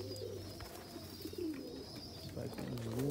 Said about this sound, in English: It's a young bird. It's a squeaker.